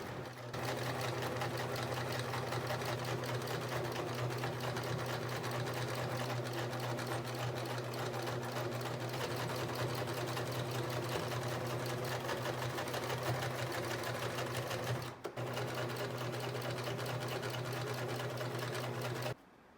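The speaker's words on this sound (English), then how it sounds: "sew a straight stitch all along the top part of my rectangle" A sewing machine runs a continuous straight stitch along the top edge of a fabric rectangle for a halter crop top, with a steady close hum and a brief pause near the end.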